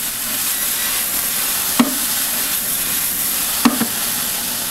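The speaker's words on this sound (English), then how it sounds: "I like to add just a little water. It'll help steam the vegetables" Vegetables sizzle and steam in a hot pan after a little water is added, a continuous hiss with two sharp clinks of a utensil against the pan.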